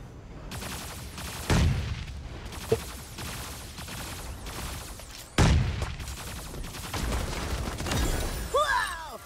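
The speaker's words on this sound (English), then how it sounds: "I hear gunfire" Rapid gunfire from the mech battle game Super Mecha Champions, sustained volleys with two heavy booming impacts and a sharp crack, loud and close, ending with a rising whine.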